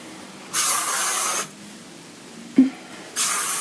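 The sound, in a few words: hairspray being sprayed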